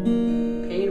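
Guitar strummed with one string out of tune, a single short sustained chord ringing with sour, clashing tones, close and fairly quiet.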